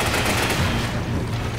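Dense, continuous gunfire from a Resident Evil 5 firefight, with rapid overlapping shots and booms filling the whole stretch at a steady loud level, no pauses between bursts.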